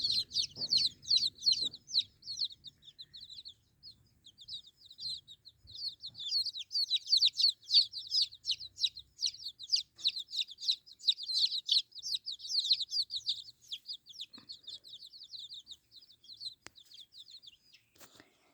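Chickens clucking and chattering continuously in rapid bursts, fairly close, with a few scattered thuds and rustles beneath.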